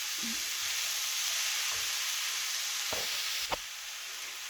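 Minced garlic frying in a pan with oil gives a steady, faint, even sizzle, broken by a couple of soft clinks from a utensil near the end.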